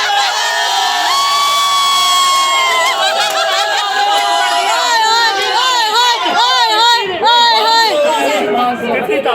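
Children chanting and shouting together in a loud, continuous crowd at a Pakistani wedding, with excited voices rising and falling close by and overlapping chatter throughout.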